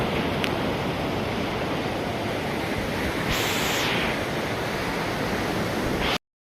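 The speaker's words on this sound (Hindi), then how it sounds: "इधर से लेके उधर हर तरफ वेव चलती है।" Sea waves breaking on the shore at Juhu beach, Mumbai, at night, a loud, continuous wash of surf with a brighter crashing swell midway, heard without speech before the sound cuts off.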